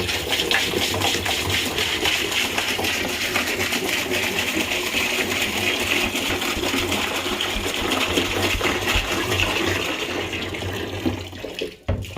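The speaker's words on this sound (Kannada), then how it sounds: "ಈ ಐದು ಲೀಟ್ರು ದೇಸಿ ಗೋಮೂತ್ರದ ಜೊತೆಗೆ ಹತ್ತು ಲೀಟ್ರು ನೀರು ಹಾಕ್ತಾ ಇದ್ದೀನಿ" Water pours steadily into a drum already holding cow urine, a loud, continuous splashing gush that tapers off and stops with a brief clunk near the end.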